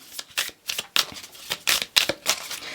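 Oracle cards are shuffled by hand in a quick run of crisp riffling and slapping bursts with uneven gaps between them, close and fairly quiet, with no talking.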